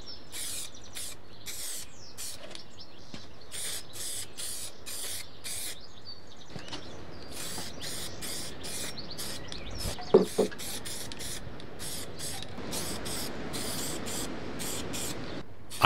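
An aerosol spray can applies primer to cleaned parts from a restored 40-year-old British lawn mower, releasing repeated short hissing bursts of varying length separated by brief pauses, close and alone, with a couple of light clicks midway.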